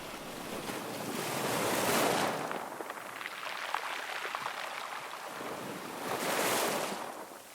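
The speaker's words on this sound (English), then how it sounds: "It is so close to the water, you can hear the waves." Ocean waves surge and recede in slow swells, a broad hiss of surf rising and falling with some wind noise on the microphone.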